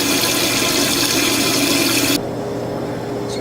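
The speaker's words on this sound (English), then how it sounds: "Dump out the dirty water and wipe it clean." Dirty water pours out of an SB 14 cooker kettle in a loud, rushing gush that stops abruptly after about two seconds, leaving a low hum.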